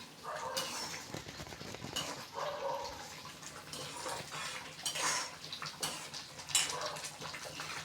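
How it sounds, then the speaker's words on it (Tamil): A spoon stirs semolina (rava) in a pan for upma, scraping and clinking against the metal in continuous, uneven strokes with a faint sizzle underneath, close and moderately loud. "இப்போ நம்ம ரவையை கொட்டிட்டோம், அதை நல்லா இது மாதிரி கரண்டி வச்சு கிண்டி விட்டுக்கலாம்."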